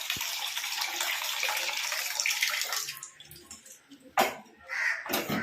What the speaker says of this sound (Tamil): இப்போ இதை வாஷ் பண்ணுறதுக்கு கொஞ்சம் தண்ணி நான் பிடிச்சி எடுத்துக்கிறேன்